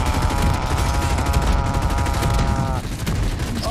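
LMG gunfire from the Modern Warfare Survival video game, loud sustained automatic fire mixed with a ringing tonal layer, running steadily before easing off near the end.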